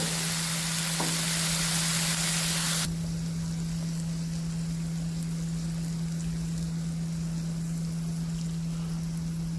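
Prawns for a South Indian ghee roast sizzle loudly in a pan for about three seconds as the spice masala is poured in, then the hiss drops abruptly to a quieter, steady fry over a low constant hum.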